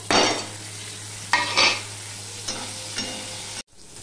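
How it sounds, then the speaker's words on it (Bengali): Tomato and green chillies stirred into frying taro (mankachu) in a pan for a vegetarian Bengali dish, a steady close sizzle broken by several scraping stir strokes, ending abruptly. "এখানে আমি দেখো টমেটো আর কাঁচা লঙ্কা নিয়ে নিয়েছি"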